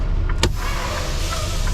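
A Freightliner truck's electric power window motor runs close by inside the cab, giving one brief whirring pull as the glass rolls down. Low engine idle rumble continues underneath throughout.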